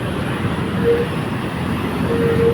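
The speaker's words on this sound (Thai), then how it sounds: "รถไฟฟ้า" Elevated electric train passing at a distance along an expressway with stalled traffic, heard as a steady broad rumble and hiss with faint tonal whines rising over the road noise.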